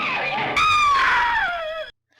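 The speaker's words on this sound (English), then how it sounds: "both have good screams" A woman lets out a high, piercing scream in the 1958 horror film The Hideous Sun Demon. It is loud and close, with a short cry that rises into a sustained wail and slides downward before cutting off abruptly.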